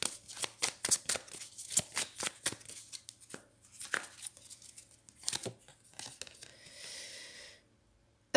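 Tarot cards are shuffled and drawn close up: a quick series of crisp riffling and slapping bursts, then sparser soft card handling, with no other sound.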